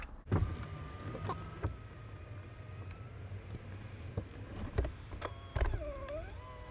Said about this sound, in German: jetzt zeige ich euch noch, wie das Dach auf und zu geht